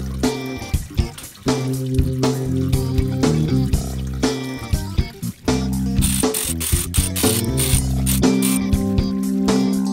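A ratchet with a 10 mm socket loosens the transmission pan bolts on a 2012 Nissan Versa SV 1.6L CVT. It gives repeated close clicking bursts over a steady, busy mechanical background that runs the whole time.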